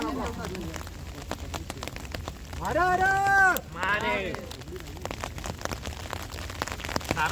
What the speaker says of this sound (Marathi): थोडा फटाफट पाऊस आला